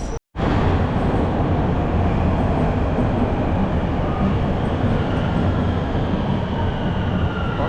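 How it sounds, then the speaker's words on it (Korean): A subway train rumbles steadily through a Vaughan Metropolitan Centre station area in Toronto, a loud, continuous low roar that fills the whole stretch after a brief gap at the start. "막 오는 지하철 하나 놓쳐가지고 다음 거 이제 탑승하겠습니다."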